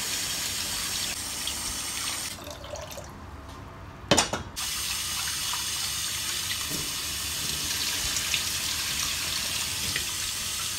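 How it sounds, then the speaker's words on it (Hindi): Lentils and rice washed together under a running kitchen tap, a loud continuous gush of water that briefly dips and splashes midway before flowing steadily again, with no voices. "मैं दाल और चावल दोनों को अच्छे से वॉश करके मैं भिगोल के रख देती हूँ"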